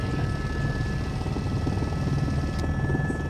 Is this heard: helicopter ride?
yes